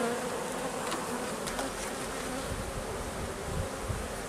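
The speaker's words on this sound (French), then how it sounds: "Il y a déjà pas mal d'abeilles dessus quand même." Honey bees buzz densely over hive frames during a colony split, a continuous close drone of many insects with no voices.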